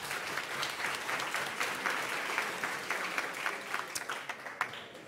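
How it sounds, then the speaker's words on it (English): An audience gives a group of presenters a round of applause at a workshop presentation, with moderately quiet, dense clapping that holds steady and thins slightly toward the end. "So a round of applause for them,"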